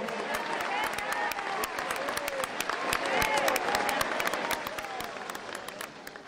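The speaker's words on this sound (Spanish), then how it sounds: "Un fuerte aplauso" Audience applause at a Bolivian national health system event in Tarija for the health minister, a dense crowd clapping steadily with sharp individual claps and a murmur of voices mixed in, swelling slightly then easing.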